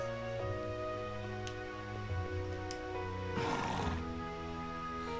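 A horse whinnies in the video game Trails into Reverie, a loud neigh over a sustained musical drone, with faint hoof-like clops before it.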